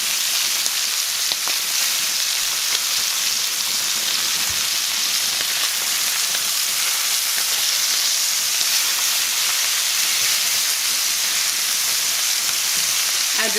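Butter melting and sizzling in a hot pan alongside rib eye steak, a steady broadband hiss and crackle running evenly throughout, close and continuous with no voices.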